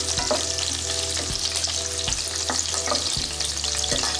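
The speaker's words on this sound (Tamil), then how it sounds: "இதை நம்ம ஃப்ரை பண்ணி எடுத்துடலாம்." Large-cut capsicum pieces shallow frying in oil in a pan, a steady close sizzle with periodic stirring scrapes and knocks and no voices.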